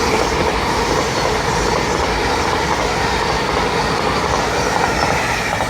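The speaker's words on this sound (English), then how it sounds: "(800 103) working service to Aberdeen from London King's Cross" A Class 800 train on an Aberdeen service from London King's Cross passes through Doncaster station on the East Coast Main Line. It makes a loud, continuous rumble close by, with clattering wheels and faint squealing throughout.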